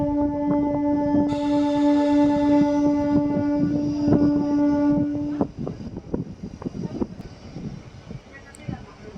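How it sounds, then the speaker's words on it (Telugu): A MEMU passenger train pulls out of a small station on a single-track line: a steady horn-like tone gives way to rumbling, clattering wheels, heard close with background voices. "బసంపల్లి నుంచి మన ట్రైన్ బయలుదేరింది."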